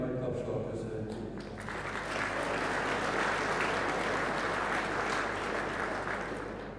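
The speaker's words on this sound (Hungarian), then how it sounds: "ezeket külön egy nagy tapsal köszöntjük." An audience at a song gathering breaks into applause, a dense, steady clatter of many hands that swells after a brief voice and holds evenly to the end.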